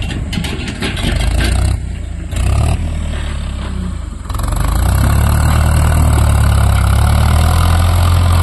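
A loud Farmtrac 6055 tractor engine rumbles steadily up close while levelling a field with a dozer blade, briefly dipping and then surging into a stronger, heavier drone.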